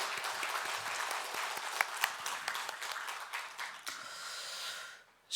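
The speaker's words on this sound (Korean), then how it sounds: "하나님께 영광의 박수 올려드리겠습니다." A church congregation applauds during a Sunday morning worship service, a crackling round of claps that thins out and fades toward silence near the end.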